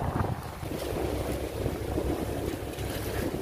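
Strong wind buffets the microphone in a steady loud roar with gusty rumbling, lasting throughout with no voices.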